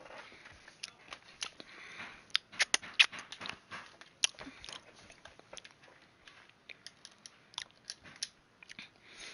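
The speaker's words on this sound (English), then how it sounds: "I just had to roll up this bag of blue Doritos" A bag of blue Doritos being rolled up, with close, faint, irregular crinkling and rustling of foil packaging in scattered bursts, with a few sharper crackles.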